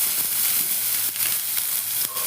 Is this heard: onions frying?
yes